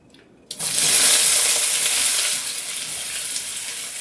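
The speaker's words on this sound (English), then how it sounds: "So you would have heard all of that sizzle when I chucked that in." Zucchini and tomato hit a hot frying pan over medium-high heat in a stir fry, breaking into a sudden loud, steady sizzle after a brief quiet moment. The sizzle eases slightly toward the end, with no talking.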